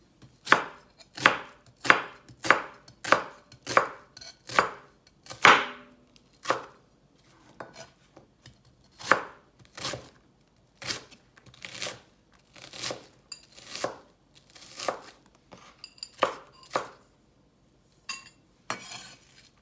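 Onions being chopped on a cutting board for okoy, Filipino fritters, with a rapid run of crisp, loud knife thuds, a brief pause, then more uneven chopping strokes, close and without talk.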